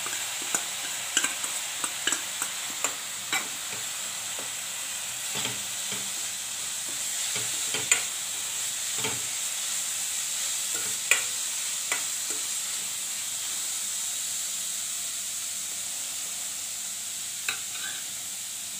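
Grated beetroot sautéed in oil alongside carrot paste gives a steady, fairly quiet sizzle, broken by occasional light spoon taps and scrapes as it is stirred, close by, with no talking.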